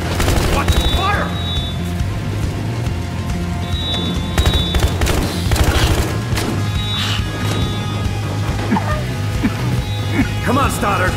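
Loud, dense gunfire and explosions fill a Battlefield Hardline police action game scene, with continuous crashing and booming throughout and shouted voices mixed in.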